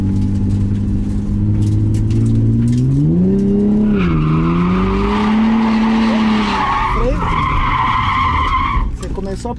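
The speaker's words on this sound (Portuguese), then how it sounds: "Você começou a pegar, isso que é o drift." A car drifts in tight circles with tires skidding and squealing loudly up close as the engine revs and rises in pitch, while a voice talks over it.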